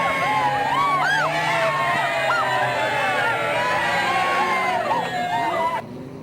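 A grandstand crowd at a sprint car and midget race cheers the main event winner in the 12 car, with steady applause, whoops and shrill yells that cut off abruptly near the end.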